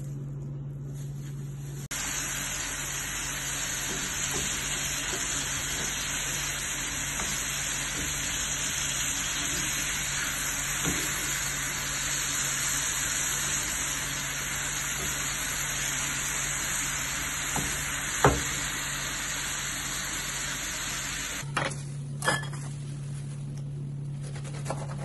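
Sauce mixture with a little oil heating toward a boil in a pot for chicken salad, a steady close hiss and sizzle running for about twenty seconds with a few faint clicks.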